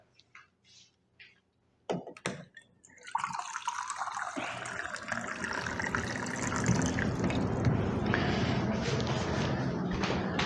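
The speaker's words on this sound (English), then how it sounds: "Okay, and then you just pour it in on top of the salt." Water poured from a container into a glass jar on top of salt for fermenting pickled cucumbers, a steady continuous splashing pour that starts after a few faint knocks and grows fuller as the jar fills.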